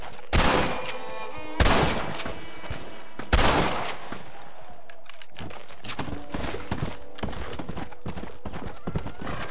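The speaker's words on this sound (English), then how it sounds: "I know there's gunfire," Gunfire in the Old West video game Red Dead Redemption: three loud, sharp bursts spaced a second or two apart, followed by fainter pops, over a steady clatter of horse hooves.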